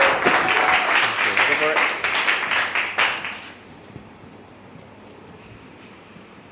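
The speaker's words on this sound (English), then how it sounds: "Give him a big round of applause for Dr." An audience applauds a speaker at a talk: dense, loud clapping for about three seconds, then it quickly dies away into quiet room noise.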